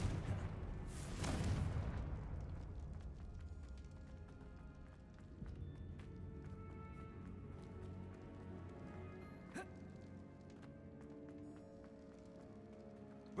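An explosion from the Confringo blasting spell in the video game Hogwarts Legacy, heard as one loud, broad boom early on that fades into a low rumbling ambience, with a sharper, fainter crack later.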